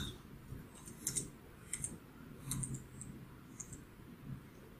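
A computer keyboard types a new user name during a Debian 8.4 jessie installation, with a few sparse, faint keystroke clicks spread across a quiet background.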